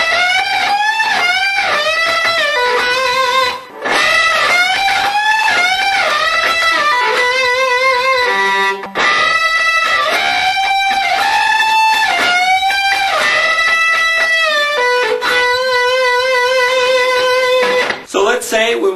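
Distorted electric guitar lick with bent notes that slide up and down in pitch, played continuously and loudly for the whole stretch with only brief gaps.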